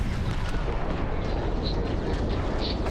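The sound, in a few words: rear-mounted ship turrets firing in the video game Starfield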